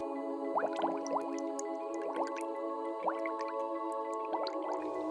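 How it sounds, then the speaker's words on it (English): Water draining out of a filled pool forms a swirling vortex, giving a steady close gurgle with repeated bright dripping and bubbling plinks on top, heard alone. "And the pool is draining."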